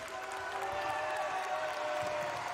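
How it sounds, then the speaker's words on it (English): A home crowd at a high school basketball game, West Carrollton against Piqua, keeps up a steady wash of cheering and clapping that fills the arena at a moderate, unbroken level. "And now the home crowd's starting to come alive."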